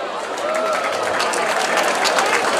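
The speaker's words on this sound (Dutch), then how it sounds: "Een applaus voor de hoofdsponsor." Crowd at a carnival prince finale evening in Deurne applauding the main sponsor, loud, dense clapping that holds steady and swells slightly toward the end, with a faint murmur of voices underneath.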